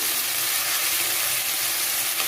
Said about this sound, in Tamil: இப்போ தக்காளி போடுறேன். இது நல்லா வதங்கணும்.